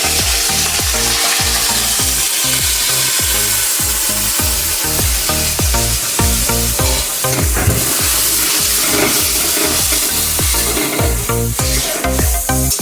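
Coconut paste goes into a pan of soyabean curry and fries with a steady, loud sizzle while a spoon scrapes and stirs in a regular rhythm close by; nobody talks.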